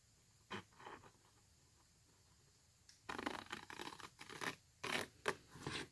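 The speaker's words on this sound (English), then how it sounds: "So I'm cutting up this one to the line." Scissors cutting paper along a line for a small gift bag: quiet isolated snips at first, then a dense run of rasping, scratchy cuts in close bursts, with no voices.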